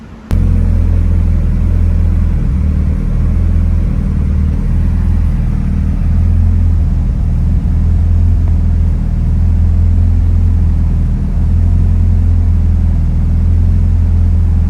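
Mitsubishi Lancer Evolution IX on the move, its engine a loud, steady rumble with gear changes and dips in revs running close and continuous throughout.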